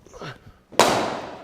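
A cricket bat meets a thrown ball with one sharp, loud crack at close range, which rings briefly after a short murmur of voice.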